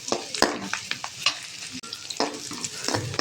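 Large onions sautéing in oil in a pan, a steady sizzle broken by repeated sharp scrapes and stirs of a spoon, close and fairly loud, with no talking.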